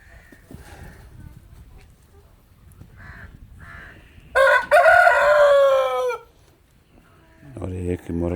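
A rooster crows loudly and close by among Australorp and Rhode Island Red chickens, one long drawn-out call standing out over quieter farmyard sounds, with a person talking softly before and after it.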